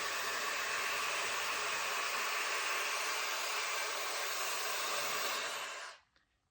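A Shark Flex hair dryer blows a steady, loud, broadband rush of air on its cool shot setting for about six seconds, then cuts off abruptly into near silence.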